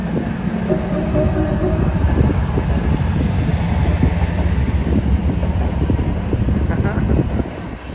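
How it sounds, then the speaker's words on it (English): A train passes close by with a loud, continuous rumble and rattle of rail cars. The sound lasts the full eight seconds, and voices are faintly heard under it. "train going."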